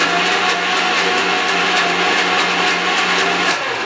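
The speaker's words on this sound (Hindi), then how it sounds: "अब उसको मिक्सी में डालकर ग्राइंड कर लेते हैं" A mixer grinder grinding chickpea stuffing into paste whirs loudly and continuously at high speed, a steady close motor drone with a slight rhythmic pulsing.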